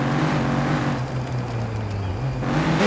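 A car engine in the racing-style mobile game Car Parking Multiplayer 2 drones steadily at a held pitch, dipping briefly and then rising again, loud and continuous with no talk.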